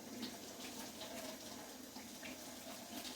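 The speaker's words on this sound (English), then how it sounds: "And then what I need to do is get me a cold water running." Cold water runs steadily from a kitchen tap, a continuous hissing splash at moderate level throughout, with no talk.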